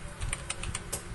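A few quick keystrokes on a computer keyboard enter a command in AutoCAD, close, crisp clicks in a short burst.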